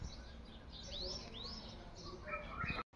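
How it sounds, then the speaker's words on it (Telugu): Small birds flit among terrace-garden trees, giving a few thin, rising chirps and tweets over quiet background hum, fairly faint and close, before a brief dropout near the end. "ఇప్పుడు వస్తాయి మన పిట్టలు"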